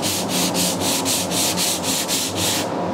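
Coarse 80 grit sandpaper rubs back and forth across the metal bonnet of an MGB GT, giving about eleven evenly spaced rasping strokes, loud and close, with no talking.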